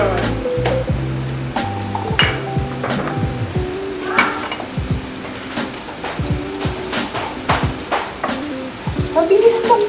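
Garlic and onion frying for adobo, a loud continuous sizzle with frequent stirring scrapes and clinks of a utensil in the pan, close up throughout.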